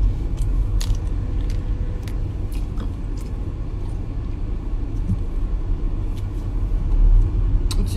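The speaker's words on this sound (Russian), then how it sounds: "Машина едет." A car rolls along with a steady, low rumble heard from inside, with scattered light clicks and knocks over the constant road noise.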